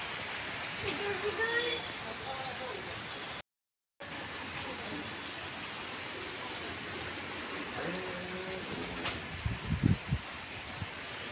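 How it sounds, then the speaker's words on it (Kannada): Rain falls steadily with a soft, diffuse patter, and faint voices murmur beneath it. "ಸ್ವಲ್ಪ ಹೊತ್ತು ಆದಮೇಲೆ ಮಳೆ ಎಲ್ಲ ಸ್ಟಾರ್ಟ್ ಆಯಿತು"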